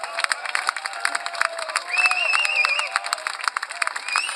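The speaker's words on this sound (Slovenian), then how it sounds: "zakaj mu pa ploskate" A dense crowd claps and cheers at an anti-government street protest, steady applause with scattered shouts and whistles close around, continuous throughout.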